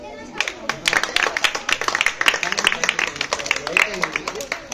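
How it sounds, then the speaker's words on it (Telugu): An audience at a birthday celebration for a turbine company's managing director claps loudly in a dense, rapid patter, with voices talking through the applause. "మీరు గట్టిగా చప్పట్లు కొట్టాలి"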